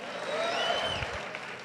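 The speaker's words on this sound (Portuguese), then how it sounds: "Aplauda o nome de Jesus" A church congregation claps and cheers at moderate level, a steady wash of hands with some voices mixed in, sounding a little distant in the room.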